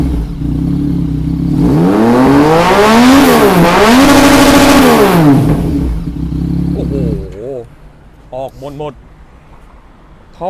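A loud three-cylinder Yamaha MT-09 (FZ-09) motorcycle engine revs repeatedly, pitch rising and falling in sweeping waves, then drops to idle with short blips and people talking near the end.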